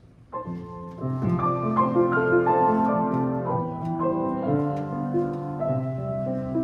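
A Brahms variation on Paganini's 24th Caprice, played live at a lecture-recital, most likely on piano: a soft attack, then sustained, rich chords and a flowing melody, moderately loud and even, with no voices.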